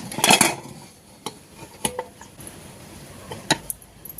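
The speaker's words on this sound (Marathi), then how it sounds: "आता इथं आपल्याला कुकर थंड झालेलं आहे आपण झाकण काढून बघूया" The lid comes off a cooled pressure cooker used to steam milk vadis in a home kitchen, heard as a cluster of sharp metallic clanks and rattles at the start, then scattered lighter clinks and taps of steel utensils.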